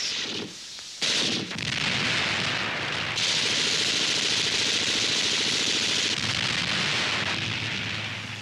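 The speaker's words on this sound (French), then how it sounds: "Kampf Panzer gegen Panzer." Tank battle in a WWII German newsreel soundtrack: a dense, continuous roar of gunfire and explosions with rumbling engine noise, loud and sustained with a brief drop near the start, no voices.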